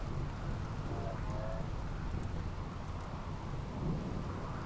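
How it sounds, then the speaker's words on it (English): Steady rain with a low rolling thunder rumble in the video game Rimworld, a dense continuous hiss filling the background at moderate level. "Rain started just in time to save these idiots."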